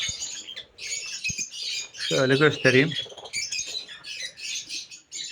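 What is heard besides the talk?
lovebirds chirping in breeding aviary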